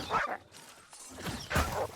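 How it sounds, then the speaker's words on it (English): Dogs bark in the video game New World: two harsh, mid-distance bursts of barking with growly, mechanical-sounding texture between them, and no talking. "Bad dogs."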